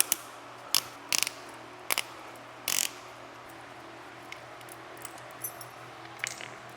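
A nut on a Konig K-Summit tire chain for a 2022 Ford Bronco Sport loosened with the chain's own Allen-key tool, a few sharp metallic ratchety clicks and rattles in short bursts, then faint small taps, close and without talk.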